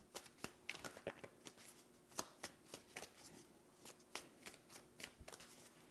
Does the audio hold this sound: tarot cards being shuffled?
yes